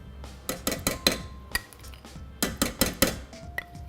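A whisk knocks and scrapes against a stainless steel saucepan of warm milk and flour paste, giving a run of sharp metallic clinks in uneven bursts, close and fairly loud with short pauses between strokes.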